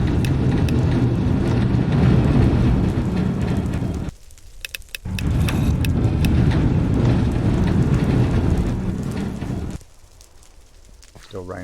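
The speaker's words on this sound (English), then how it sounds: "Still raining." Steady rain in the video game Minecraft, a dense, loud hiss that drops out briefly near the middle and again toward the end.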